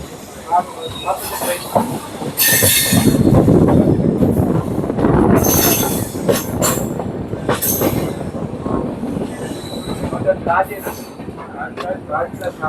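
A Kottayam passenger train runs along the railway line between Kulitturai and Nagercoil, loud and close, with rumbling wheels, rhythmic clacking and sharp wheel squeals. Someone talks over the passing train.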